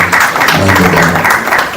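Audience applause for the CEO at a FinTech cybersecurity and fraud summit, a short, steady patch of dense clapping that stays loud with no clear break, a voice murmuring faintly beneath it.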